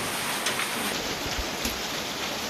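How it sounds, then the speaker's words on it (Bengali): Steady heavy morning rain falls outside, a thick constant patter on surfaces with a few louder drips and splashes standing out, no talking. "সকাল থেকে প্রচুর বৃষ্টি হচ্ছে"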